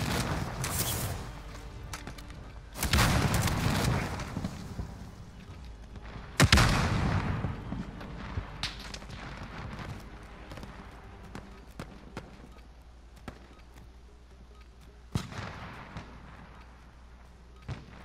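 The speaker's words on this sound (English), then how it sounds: "Someone's shooting at me." Gunfire in a video game: several loud, close blasts and bursts separated by quieter stretches, with scattered sharp pops and a steady low rumble under them.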